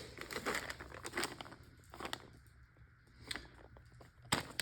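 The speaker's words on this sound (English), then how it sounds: "Packing paper." Quiet, close crinkling and rustling of packing paper being scrunched, in uneven bursts with short lulls between them.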